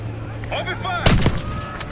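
Gunfire erupts in Call of Duty Black Ops 6, a loud close burst of shots after a second of quieter game ambience with faint radio-like voices, then a couple more sharp reports.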